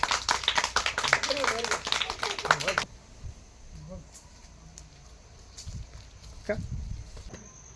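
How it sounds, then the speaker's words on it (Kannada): A group of schoolchildren clap together in a government school classroom: brisk, dense applause for about three seconds that stops abruptly, leaving quiet room tone with faint voices and a few small knocks. "ಶಬಾಷ್ ಚಪ್ಪಾಳೆ"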